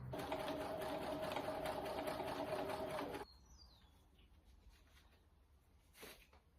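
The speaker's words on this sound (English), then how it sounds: "I'm gonna sew this one line with a zigzag stitch." A sewing machine runs a zigzag stitch along a single seam in a steady rapid chatter for about three seconds, then stops. A faint brief rustle follows in the quiet.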